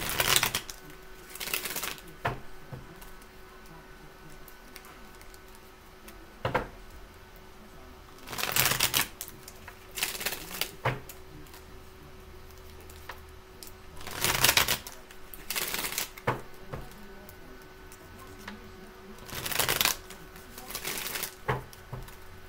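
Repeated bursts of a tarot card deck being shuffled, riffling in short rapid flurries every few seconds, close by and without talk.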